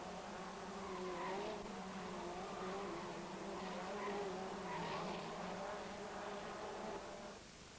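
Race cars roar through the tricky Salsicharia bend at the 1991 Vila Real circuit, a dense continuous engine drone from several cars that holds steady and then drops away at the end.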